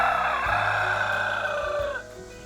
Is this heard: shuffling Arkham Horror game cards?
no